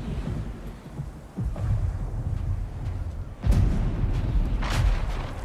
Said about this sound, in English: Just a little thunder.